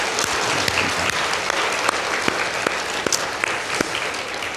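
A church congregation applauds children standing up during a Sunday service, a steady, dense wash of clapping from many hands that fills the room and continues without talk.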